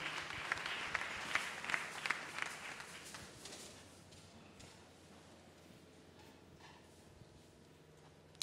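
A church congregation at a Sunday service applauding, a faint, distant patter of clapping that peaks in the first few seconds and then thins out into a low room hum, with a little voice in the background.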